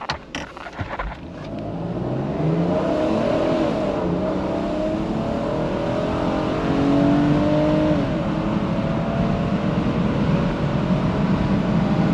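A Mercedes 320CE A124 convertible accelerates hard from a standstill to 100 km/h, its engine note rising through the gears with audible shifts, heard from inside the car as a loud, steady climbing growl.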